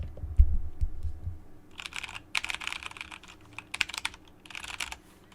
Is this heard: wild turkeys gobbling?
no